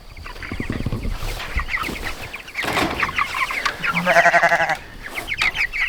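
Three-week-old chickens clucking and peeping close by, a busy overlapping flock with a burst of rapid, repeated calls partway through.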